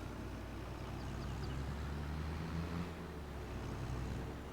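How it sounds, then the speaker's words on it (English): Tractor engine in the Farming Simulator 22 video game: a steady, moderately loud low rumble that drones on without a break for the whole stretch, with no talking over it. "I love this tractor."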